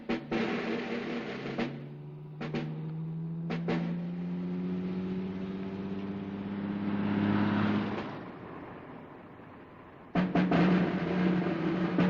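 An old car drives along a city street in wartime Amsterdam, its engine humming steadily and rising in pitch as it speeds up, with brief clunks and gear changes in between.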